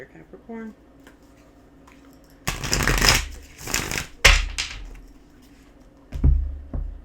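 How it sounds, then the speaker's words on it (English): Oracle cards are shuffled in several brisk riffling bursts, loud and close, with quieter pauses between them. "One more shuffle here"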